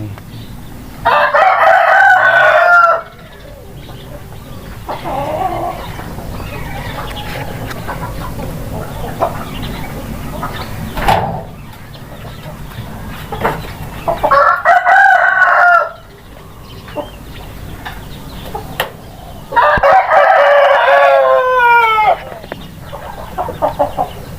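Roosters crow repeatedly, three long loud calls spread over the stretch, with quieter clucking and farmyard background in between.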